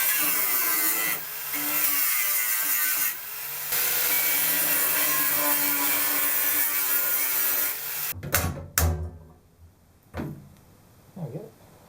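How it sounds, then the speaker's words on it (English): A thin cut-off wheel grinding through welds on an old lathe, giving a continuous loud abrasive whine for about eight seconds with brief dips, then stopping, followed by a few clanks and short speech. "a really thin cut-off wheel, so that I don't have to cut more than I need. So it's a case just whipping through the welds"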